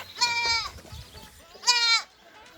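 A goat bleats twice while being fed banana peel in a farm pen, two loud, wavering, nasal calls about a second apart with a quiet gap of low background noise between them.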